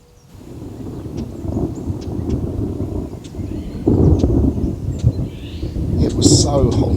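Thunder rumbles low and steady through a summer thunderstorm at lakeside Lake Sumbar, with wind buffeting and rustling and a heavier roll swelling toward the end.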